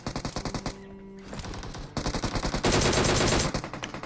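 An M16 rifle fires in PUBG, loud close-range bursts of rapid, evenly spaced shots broken by brief pauses, with a denser stretch of fire near the end.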